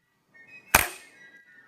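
An 18th-century flintlock musket lock snapping as the trigger is pulled, one sharp metallic crack with a brief ringing tail, close and clear, with no talk.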